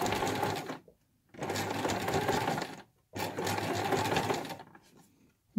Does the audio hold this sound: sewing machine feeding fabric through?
yes